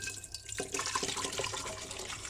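Water is poured into a crock pot slow cooker over vegetables and a stock cube, a close, gurgling splash that starts after a brief clatter and runs on steadily.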